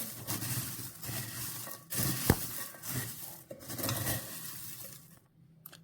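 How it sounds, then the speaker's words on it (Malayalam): Fried ingredients being stirred into a cornflakes mixture, giving a steady scraping, rustling clatter with a few sharper knocks, fairly quiet and close, with no talking, fading out at the end. "ഇനി നമുക്ക് കോൺഫ്ലെക്സിലോട്ട് ചേർക്കാം. നമുക്കിനി നന്നായിട്ട് മിക്സ് ചെയ്ത് യോജിപ്പിക്കാം"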